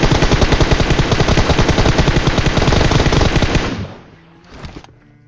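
A long, loud burst of rapid automatic gunfire in a battle royale video game, continuous for several seconds, then cutting off into a brief quieter tail.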